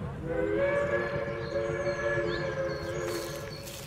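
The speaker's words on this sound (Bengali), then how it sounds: "ভাগ্য সদয় থাকায় ওয়াটারলু স্টেশন থেকে সকালের ট্রেনটা পেয়ে গেলাম।" A train runs steadily, and a sustained multi-tone whistle carries across it before fading. The sound is moderately loud and close.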